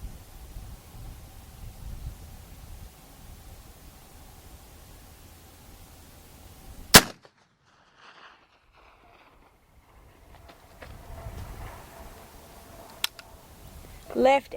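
A Sharps rifle fires once outdoors in a paddock at a target about 1650 yards away: a single sharp, loud crack stands out against steady wind noise, followed by near silence and a few fainter clicks.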